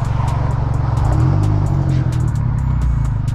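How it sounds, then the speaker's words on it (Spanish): Dodge Caliber SRT-4 running 21 psi of boost doing a tire burnout, its engine droning loud and steady with a rising whine and sharp crackling bursts over the top. "Pinche quemón de llanta"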